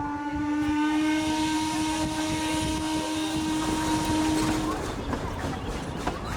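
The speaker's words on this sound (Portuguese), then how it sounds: "O apito da locomotiva anuncia a partida." A steam locomotive whistle sounds a long, steady, loud tone to announce departure, then cuts off and leaves a hissing steam rumble.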